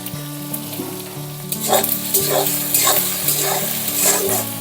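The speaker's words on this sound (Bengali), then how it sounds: "রসুনটা দিয়ে একটু ভাজা ভাজা করে নেব।" Crushed garlic fries in a pan with a bright, continuous sizzle, punctuated by several rhythmic scraping stirs, while a steady low hum runs underneath.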